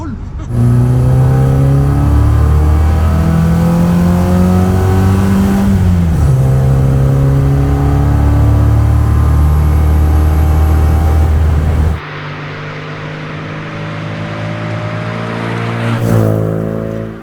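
A small race car engine roars loudly and steadily through its air filter and exhaust, revving up and down through gear changes and close to the listener, then dropping briefly before rising again near the end.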